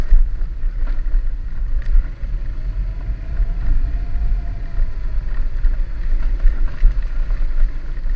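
A motorcycle rides along a rough, unimproved road around Villa Espina, giving a steady low engine rumble with wind buffeting throughout and no voices.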